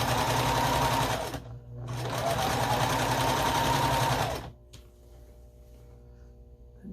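Sewing machine stitching quilt fabric for a scrappy string quilt, two close runs of rapid steady whirring stitches with a short pause between, then the motor stops leaving a faint hum.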